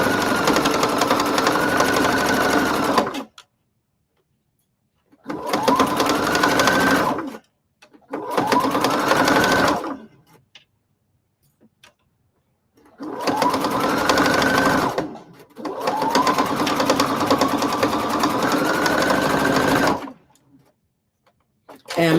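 A sewing machine stitches a denim corset in several long bursts of rapid, steady whirring that stop and restart, with short pauses between runs.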